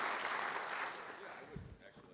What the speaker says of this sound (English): So thanks, everybody, for the applause